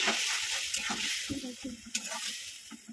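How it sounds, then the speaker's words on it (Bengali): About one and a half spoons of ginger paste cooking down with a splash of water in a pan for a khichuri and lentil fritter meal, a faint hissing simmer with occasional soft stirring scrapes. "মশলাটাকে আমি কষাতে বসালাম"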